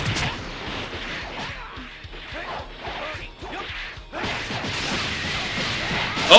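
Rapid combo attack hits in the Dragon Ball XenoVerse fighting game, a steady stream of punchy impacts, whooshes and crashes up close that build into a denser barrage toward the end.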